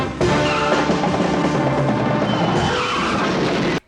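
Tires skid and squeal as a truck brakes hard in a 1970s film scene, a loud sustained screech lasting several seconds before cutting off abruptly.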